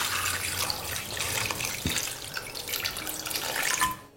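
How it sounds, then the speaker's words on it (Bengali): Water poured from a vessel into a cooking pot of Lucknowi Awadhi mutton biryani, a steady close splashing, trickling flow lasting several seconds before tapering off. "এখানে দিয়ে দিতে হবে পরিমাণ মতো জল"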